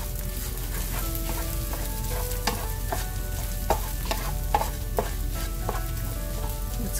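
Okra and scrambled eggs sizzling in a stir fry pan, a steady close frying hiss with occasional spatula scrapes and taps throughout.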